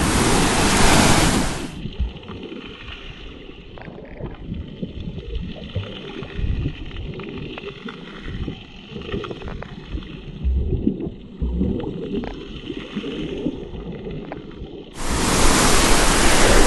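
Ocean surf rolls and breaks steadily on a rocky shoreline where snorkelers swim, a continuous wash of crashing water with wind noise that rises and falls, and no voices.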